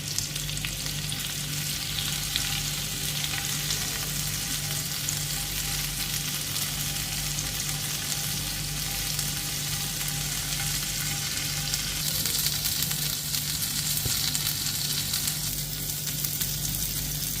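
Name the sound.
mutton boti kabab frying on low-medium flame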